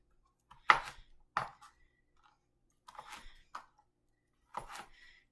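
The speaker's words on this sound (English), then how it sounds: "If you're not going to leave it whole like this, I suggest just chopping it." A knife chops through butternut squash on a board in about five separate sharp cuts, each a crisp thud with a brief crunch, close by, with quiet gaps between them.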